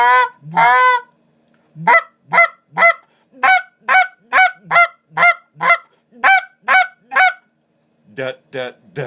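A Basin Calls BigShot reed goose call blown in a run of loud, close honks, starting with a few drawn-out notes and moving into quick rhythmic clucks and short honks, with no talk over it.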